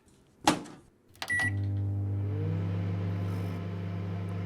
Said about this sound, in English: Never like to stand next to a microwave.